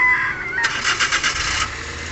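The K6A engine of a Suzuki DA64W, which has a P2229 fault code, cranks briefly with a whirring starter for about a second, close and moderately loud, then settles.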